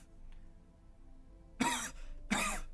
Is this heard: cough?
yes